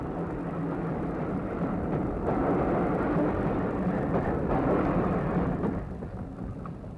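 LNER A3 Pacific steam locomotive departs King's Cross hauling a rake of teak coaches, a steady loud rumbling roar with rolling train noise throughout, easing slightly toward the end.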